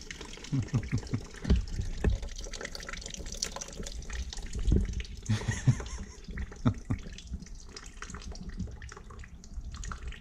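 Thick sludge gurgles and trickles out of an engine block drain plug, a faint, uneven liquid flow with occasional drips and knocks, while people talk quietly nearby.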